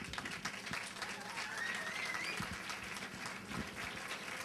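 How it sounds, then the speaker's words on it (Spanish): An audience at a solidarity awards gala in Torrox, Spain, applauds for a guest, with a continuous, moderately distant patter of many hands and a faint murmur beneath. "que pide un aplauso para él"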